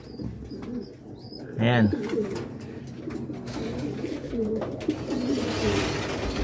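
Racing pigeons coo nearby, one clear rolling coo standing out amid softer bird sounds, while someone talks throughout.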